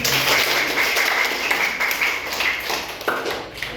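Students in an Indonesian classroom clap after a group presentation, a close, loud round of hand claps that thins out toward the end, with faint ringing tones underneath.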